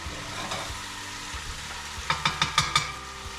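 Egg fried rice stirred and fried in a pan: a steady sizzle runs throughout, with a quick series of five or six sharp utensil scrapes and taps near the end.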